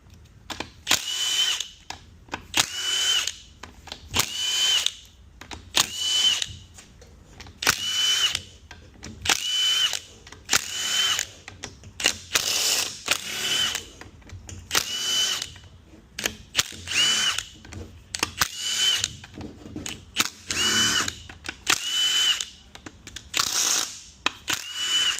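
A power drill removes bolts from a 9T60 transmission on a 2018 Chevrolet Traverse, whining loud and close in a long series of short repeated bursts, each spinning up briefly before stopping.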